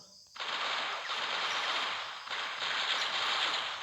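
Dense, rapid gunfire from a zombie shooting video game pours out loud and unbroken after a brief quiet start, the shots blurring into one continuous rattle with no voices.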